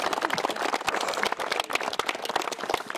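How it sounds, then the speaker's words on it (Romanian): Spectators at a mini-football tournament applaud local officials with a dense, steady patter of many hands clapping at once, moderately loud and continuous throughout. "Haideți să-i aplaudăm."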